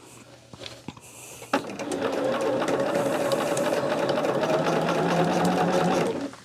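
A sewing machine stitches quilt blocks pieced on the diagonal, its steady close motor hum starting abruptly after a few faint clicks and running continuously for several seconds before stopping.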